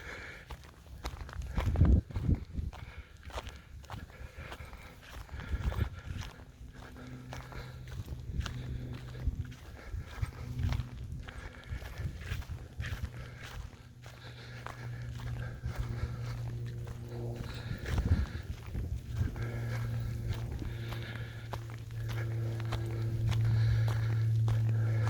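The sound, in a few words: footsteps walking uphill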